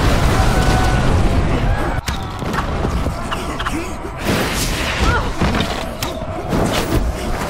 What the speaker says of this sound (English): Magic. And fireball.